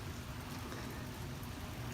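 Rain falls steadily on a home Halloween yard haunt display set up as a foggy cemetery, making a continuous, even hiss and patter with a low rumble underneath and no voices.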